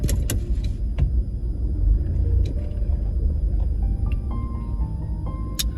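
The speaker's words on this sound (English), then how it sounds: "hold on, the car moving." A car moves along the road in Jamaica with a loud, steady rumble of engine and road noise throughout, broken by a few sharp clicks and rattles from inside the vehicle.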